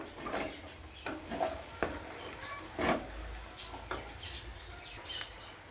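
Curry leaves frying in a pan for a home-style fry dish: a steady close sizzle with several sharp stirring scrapes and clinks of a spoon against the pan.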